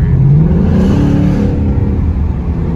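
A Ford Mustang GT engine revs loudly and close by, a deep continuous roar that rises in pitch and then settles, with no talking.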